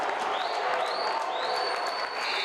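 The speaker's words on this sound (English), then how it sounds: "Yeah, student section going nuts." A basketball student section roars after a blocked shot on senior night, steady dense crowd noise with scattered clapping, sustained and moderately loud throughout, with whistle-like tones cutting through.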